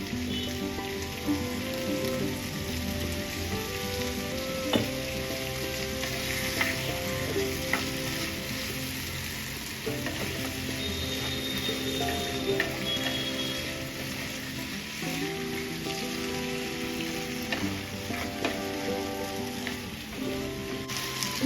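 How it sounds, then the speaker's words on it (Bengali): Ginger and green chillies sautéing in a pan give a continuous close sizzle and crackle, with occasional stirring scrapes, steady throughout and with no talking. "এবার এটাকে ভালো করে আমি সতে করব"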